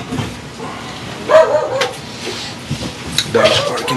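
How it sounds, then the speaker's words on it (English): A dog barks a few times indoors in a home studio, short sharp bursts close by, while someone talks over and between them. "Dog's barking now"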